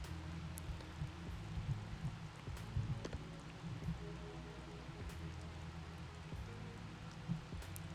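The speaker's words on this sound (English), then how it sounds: "Just a nice light rain." Light rain falls in the sailing game Sailwind, a soft steady patter with scattered droplet ticks over a low, droning background, continuous and fairly quiet with no one talking.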